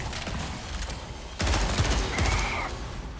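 Rapid gunfire crackles in the video game Marathon, a dense burst of close shots that grows louder partway through, with a brief rising tone.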